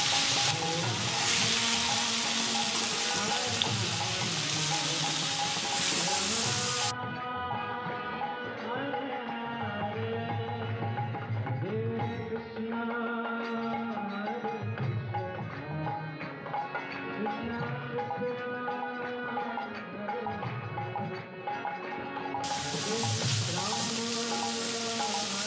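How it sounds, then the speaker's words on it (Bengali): Food fries on a tawa over a high flame, browning to gold as it is turned for an Ekadashi-style barbecue dish, with a continuous sizzle under steady background music. "ব্রাউন কালার করে ভেজে নিচ্ছি।"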